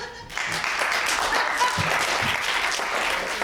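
Applause from an audience at an improv show, starting abruptly after a brief pause and then holding as a full, even burst of clapping at close range for the rest of the moment.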